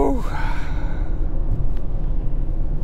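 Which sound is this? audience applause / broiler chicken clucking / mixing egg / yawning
yawning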